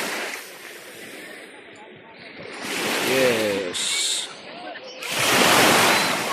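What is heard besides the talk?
strong ocean waves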